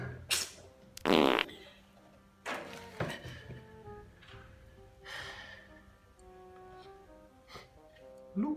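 Several fart noises come in short bursts, one loud and sputtering, spread among pauses and other scattered sounds.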